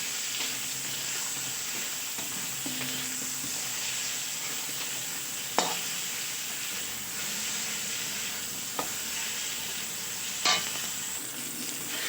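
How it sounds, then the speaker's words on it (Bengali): Eggplant pieces coated with turmeric fry in hot oil with a steady, even sizzle throughout, joined by a few brief clinks of a utensil against the pan. "আমি বেগুনগুলোকে একটু ভেজে নেব।"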